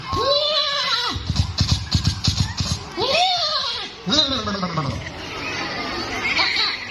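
A voice imitates a horse neighing with rising and falling whinny-like calls, loud and close, mixed with lively chatter and other voices during a storytelling session.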